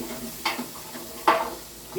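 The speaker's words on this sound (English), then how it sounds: "we're going to do a quick stir." Meat sizzles in a pot on the stove as it gets a quick stir, with two sharp scraping bursts of the spoon against the pot over a steady frying hiss.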